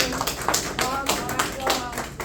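Scattered audience applause at a North Miami Beach council candidate session: a few sharp claps overlap with a voice talking, all within a couple of seconds.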